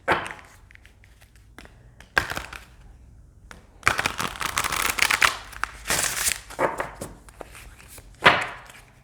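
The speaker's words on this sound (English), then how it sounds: "I'll do a side shuffle and we'll pull like 3." An oracle card deck being side shuffled close by: a few soft taps, then a fluttering riffle of cards, followed by a final squaring knock.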